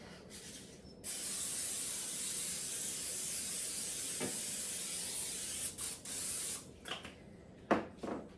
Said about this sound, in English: I have a 13x9 pan that I'm gonna spray really good